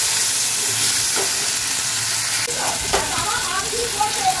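Potatoes, tomato and spices frying in a pan give a steady, loud sizzle that runs throughout, with faint stirring scrapes and a brief voice near the end.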